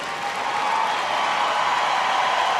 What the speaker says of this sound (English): Oh, the Doberman's getting a big applause.